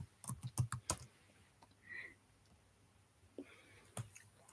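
Someone types code on a computer keyboard, quiet scattered key clicks in short bursts, denser at first then sparse, with faint background noise.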